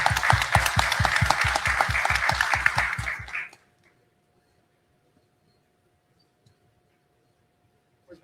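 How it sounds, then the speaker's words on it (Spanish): An audience at an economic forum in Guatemala breaks into steady, close applause for about three seconds, then it cuts off abruptly into near silence. "Un aplauso"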